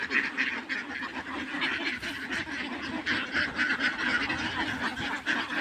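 A flock of ducks being raised in an open field quack and honk continuously, a dense overlapping chorus at close to moderate distance with no talking.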